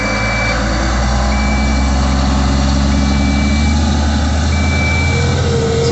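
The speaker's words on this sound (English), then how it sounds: "Then turn the bed auger on first. Then the delivery." A spreader truck idles and runs steadily with its bed auger and delivery system engaged, a continuous mechanical drone with a low engine rumble and repeated reversing-style beeps cutting in at regular intervals.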